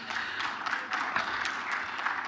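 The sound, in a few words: audience applause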